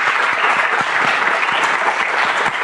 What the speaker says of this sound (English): please join me in giving him a huge round of applause